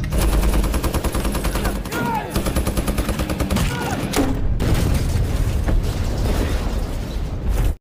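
Loud, dense bursts of gunfire and booming shots run almost continuously, like a heated firefight with rapid repeated shots, in an action film.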